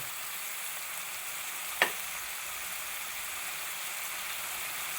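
Fenugreek seeds fry in hot oil for a Kottayam-style prawn curry, a steady, even hiss with one sharp click partway through.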